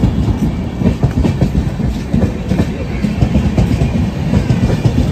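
The Indrayani Superfast Express, train 22105 from Mumbai to Pune, rolls through Dadar station with a loud, continuous rumble and a steady clickety-clack of wheels over the rail joints, close by and filling the whole stretch.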